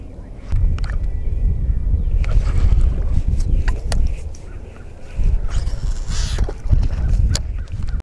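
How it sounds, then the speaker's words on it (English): Gusting wind buffets the microphone on a lake during a muskie fishing trip, low rumbling bursts rising and falling over several seconds, with faint water and boat sounds underneath. "The wind's starting to pick up"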